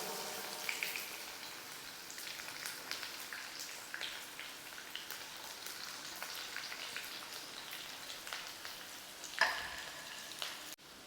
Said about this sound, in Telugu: ఇంకా ఆయిల్ వేడైపోగానే ఉల్లిపాయ ముక్కలు 2 పెద్ద సైజు ఉల్లిపాయలు కట్ చేసి వేసుకోవాలి.